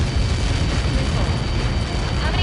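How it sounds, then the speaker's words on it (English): Massive explosion impact in Ace Combat 7: Skies Unknown, a dense, sustained roaring boom with rumbling low end that fills the whole moment at high volume. "How many got caught in that explosion?"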